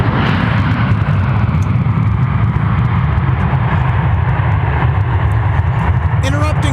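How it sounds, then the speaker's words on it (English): A Boeing 737 airliner roars past at Minneapolis–St. Paul Airport, a loud, steady broadband engine rumble and rush that stays strong from start to end. "Interrupting Boeing 737"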